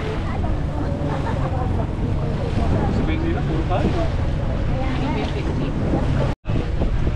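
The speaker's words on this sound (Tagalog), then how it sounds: "Bago lang itong bangka na ito" A small motorboat engine drones steadily on the sea during Boracay island hopping, over wind buffeting the microphone, with people talking throughout.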